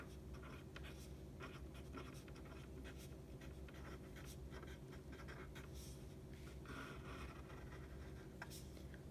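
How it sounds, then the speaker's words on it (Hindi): Pen or pencil writing out an answer to a Sanskrit exercise, a faint, steady scratching of strokes on paper against a low background hum. "पहले यही लिखेंगे"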